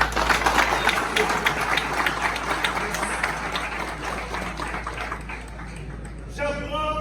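An audience at a university student council ceremony applauds the Prime Minister. Dense clapping is strongest early and gradually thins out, and a voice speaks over it near the end.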